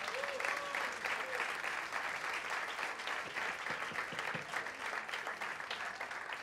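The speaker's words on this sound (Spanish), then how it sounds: "Un aplauso para él" A live crowd at Teatro Sony claps for a music producer during a concert, with a steady, fairly distant wash of applause and a few whoops and voices mixed in.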